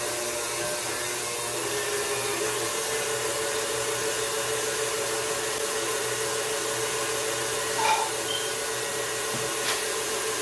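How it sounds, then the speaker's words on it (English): An electric mixer runs on high speed, whipping cream for banana pudding in a continuous close whir. The steady drone carries on with a brief clatter near the end, and nobody speaks. "So you're just going to whip it until you see the soft peaks."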